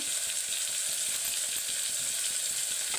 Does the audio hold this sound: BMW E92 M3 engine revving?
no